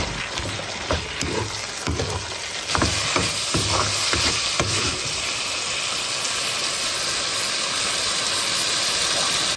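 Chili flakes stir-frying in a wok for homestyle minced pork chili noodles, a steady close sizzle and hiss with a few sharp scraping clatters early on, with no talking.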